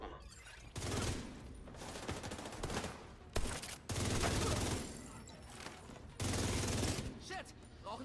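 Gunfire in The Division 2: sustained bursts of automatic weapon fire in several long volleys separated by short gaps, loud and close, with occasional booms and a player's voice speaking between shots.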